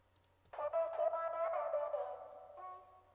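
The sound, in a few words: vocal stab sample pitched up 7 semitones, low-passed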